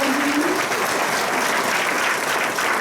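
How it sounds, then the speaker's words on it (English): Audience applause at a hospital medical conference award ceremony: a continuous, even round of clapping from a large crowd filling the room, steady and loud from start to finish. "Can we have a good round of applause, ladies and gentlemen?"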